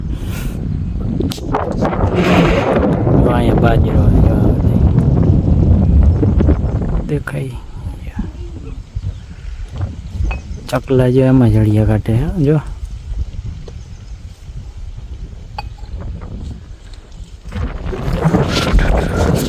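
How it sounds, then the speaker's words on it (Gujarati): Strong wind at the Vachhda Dada temple buffets the microphone in low, gusting rumbles that come and go beneath steady nearby talking. "પવન ભારી છે"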